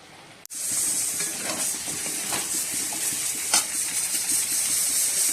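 Food sizzles and hisses steadily in a hot pan on a home stove, with scraping stir strokes and a sharp clack partway through, close and continuous with no talking.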